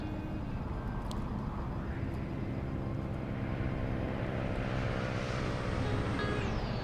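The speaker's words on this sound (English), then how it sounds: "Lots of aircraft flying right now" Airplanes fly around Oakland International Airport in California, giving a steady, loud, broadband engine roar with a slowly shifting tone that fills the whole stretch.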